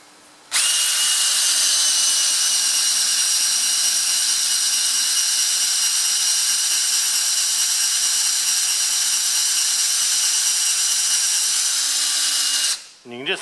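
An 8mm drill bit bores steadily into a Massey Ferguson 35X rear tractor axle, a loud, continuous high-pitched whine with a low hum beneath, running unbroken for about twelve seconds before winding down abruptly.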